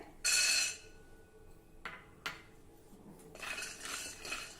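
Dry peanuts tumble and rattle against a metal pan over a low flame, with a sharp scraping clatter at the start, a few isolated clinks, then a softer steady shuffling toward the end.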